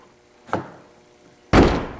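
A bolt-on lambo-style door on a 2010–2012 Chevrolet Camaro swings with a muffled thunk at its start, then shuts with a loud, full-bodied slam near the end, with no talking.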